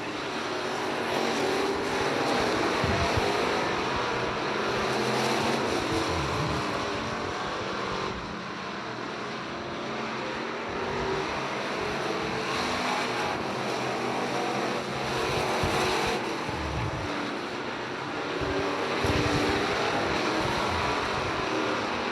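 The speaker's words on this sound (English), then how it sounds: "Cars kind of spread out around the racetrack right now here at the factory stock main event." Factory stock race cars in a main event at North Alabama Speedway, their engines droning steadily as the field spreads out around the track, a continuous, fairly distant roar that swells and eases as cars pass.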